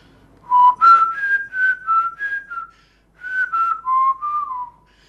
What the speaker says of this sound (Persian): این سوتی که میزدم از ساخته های خودمه